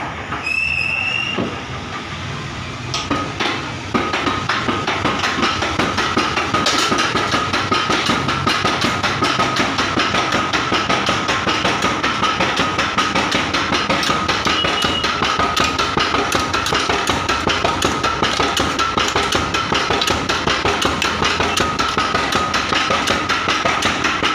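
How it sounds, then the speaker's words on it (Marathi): A spice grinding machine runs in a masala shop, a loud, steady mechanical clatter with rapid rhythmic knocking that starts after a few seconds and continues without pause. "थोडीशी मशीन चालू करून दाखवा"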